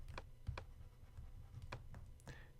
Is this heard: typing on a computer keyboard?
yes